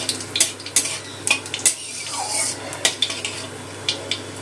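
Black cumin and a cut dried chilli fry in oil for a tempering, a soft sizzle under repeated sharp clinks and scrapes of a spoon against the pan.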